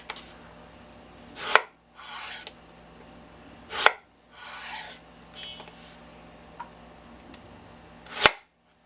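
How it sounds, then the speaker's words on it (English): A knife cuts slices from a red onion on a board, three sharp chopping thuds spaced a few seconds apart with softer scraping sounds in between, close and clear with no talking. "Take a nice red onion. Take a few slices off of that."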